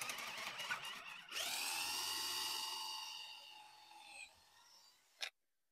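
A bench-ground drill bit in an electric drill boring slowly into metal, a high whining, grinding bite that starts abruptly, holds steady for a few seconds, then fades before a short final clunk as it stops.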